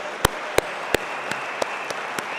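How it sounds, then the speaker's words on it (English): Scattered claps from the audience at a company New Year showcase: about seven sharp, separate claps spaced evenly over a steady, low background hum, with no voices. "everyone at head office deserves a massive round of applause"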